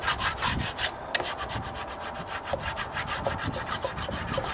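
Steady, rhythmic back-and-forth scraping on wood while a high spot on weathered, dry-rot-repaired deck stairs is worked down, close and continuous with regular strokes throughout.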